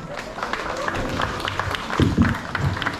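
A round of applause at a building inauguration ceremony, a crowd clapping steadily in a dense wash of hands, with a few louder, closer claps near the end.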